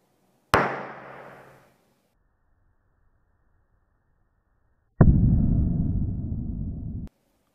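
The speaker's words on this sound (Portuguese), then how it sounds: "a explosão identifica a presença de gás hidrogênio" A small hydrogen gas explosion set off by a match held over a cup makes a single sharp pop that fades quickly. Several seconds later comes a second, longer burst of loud hissing noise that cuts off abruptly, with near silence around both.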